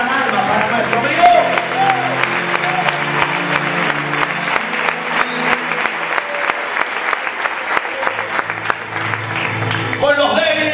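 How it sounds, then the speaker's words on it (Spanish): A church congregation applauds at an evangelistic campaign service, dense loud clapping that runs steadily throughout with voices mixed in. "den un fuerte aplauso a los que salvan almas para nuestro Dios"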